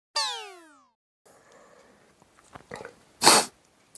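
A person sneezes once, a sharp, loud burst near the end, preceded by a few soft breathy inhales and sniffs in an otherwise quiet room.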